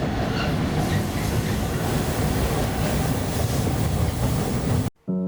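Loud, continuous rumble and rattling clatter of a cargo train rolling along the rails in Canada, heard close up from aboard a freight car, with the roar steady throughout before cutting off abruptly near the end.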